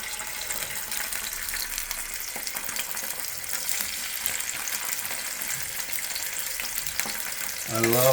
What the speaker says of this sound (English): I love the sound of the sizzle.